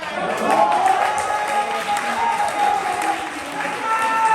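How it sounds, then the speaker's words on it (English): Crowd applause and cheering at a poetry slam between performers. A busy mix of clapping and lively voices carries through, with whoops and chatter rising over it at a fairly loud, steady level. "Keep that applause going for your next quote on the mic, y'all."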